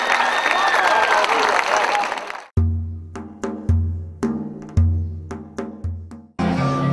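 A crowd at an outdoor event in Axioupoli claps hands in a loud, dense burst for about two seconds before cutting off into rhythmic music notes.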